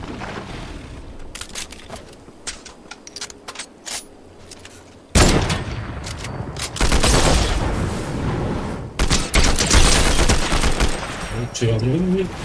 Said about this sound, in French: Le fusil à pompe à deux coups là, elle fait très très mal si on l'utilise bien.